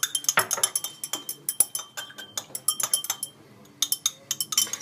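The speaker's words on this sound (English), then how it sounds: "Take a glass rod and stir until the sodium hydrogen carbonate dissolves." A glass rod stirs sodium hydrogen carbonate solution in glassware, making close, rapid clinks and taps in an irregular rhythm with no voices.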